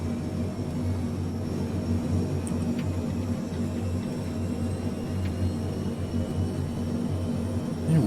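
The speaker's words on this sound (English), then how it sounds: "engine 2 starting, and as you can see, it rotates in a clockwise direction" The turboprop engine of an Airbus A400M in Microsoft Flight Simulator 2020 hums and drones steadily as it spools up, a continuous low rumble with faint higher whines and no talking.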